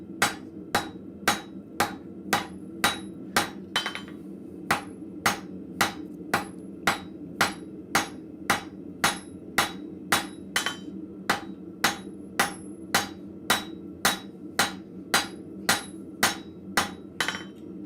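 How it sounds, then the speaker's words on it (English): Blacksmith drawing out steel on the square against an anvil, sharp ringing hammer blows struck in a steady, even rhythm about twice a second, loud and close, continuing throughout. "I'm gonna draw this guy out now on the square, and it's gotta stretch all the way out to the edge of my anvil"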